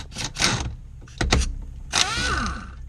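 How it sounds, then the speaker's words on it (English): A pneumatic air impact gun fitted with a 19mm socket spins off the steering wheel nut on a Nissan 350Z during a Nardi wheel install, with several short, loud rattling bursts close by and the last burst winding down. "we're going to take a 19mm socket and your air gun"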